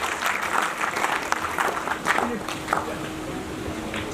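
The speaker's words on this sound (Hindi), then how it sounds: "एक बार जोरदार तालियों से स्वागत कर लीजिएगा उनका भी और अपना" Audience applause at a youth inspiration award ceremony, a dense wash of clapping from a crowd in a hall that runs throughout, fairly loud, with faint voices mixed in.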